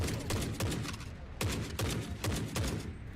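A gun fires in bursts in the shooter game The Forever Winter, with loud, rapid, booming volleys in quick succession that are close and dominant throughout.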